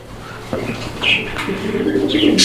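A single female pigeon of a running breed, kept for sale, coos in a few soft, low phrases up close, with light rustling and bird chatter around it.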